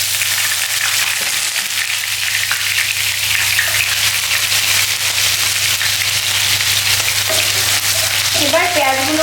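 Chopped onions sizzle and fry in plenty of hot oil for a chicken curry, a loud, steady close-up crackle with brief stirring clinks toward the end.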